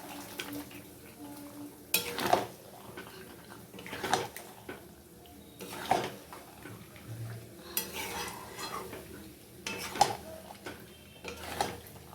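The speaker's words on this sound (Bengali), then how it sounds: "চিকেনটা দেব দিয়ে ভালো করে কষিয়ে নেবো" Chicken is stirred and fried in a thick spice masala, with soft intermittent scraping and clinking of a spatula against the pan over a faint, low sizzle.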